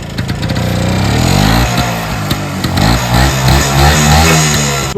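A modified Rajdoot motorcycle running after a kick start, a loud, close, throbbing single-cylinder engine with an uneven, pulsing idle and several blips of revving.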